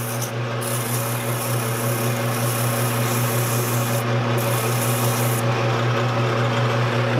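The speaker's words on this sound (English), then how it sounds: "I normally use 80 grade sandpaper and then follow that with 120 or 150" Turned wood spinning on a lathe while sandpaper is pressed against it, producing a steady, loud abrasive rasp over the constant hum of the lathe motor, with brief changes in pressure and no talking.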